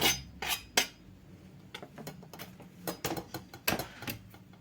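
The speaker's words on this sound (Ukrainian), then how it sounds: "Додаю до тіста подрібнений шоколад, все разом перемішую." Spoon clinking and scraping against a bowl while chopped chocolate is stirred into cookie dough, irregular close taps and knocks with quiet gaps between, no talking.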